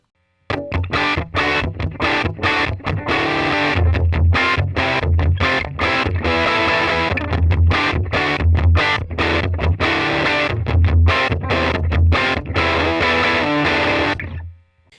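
Electric guitar played through Amplitube amp simulation with a two-amp cabinet, a noise gate and reduced reverb, giving a heavily distorted tone in steady, loud rhythmic chugs and chords that run continuously before being cut off at the end.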